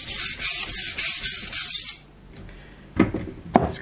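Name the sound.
blade rubbing on a sharpening whetstone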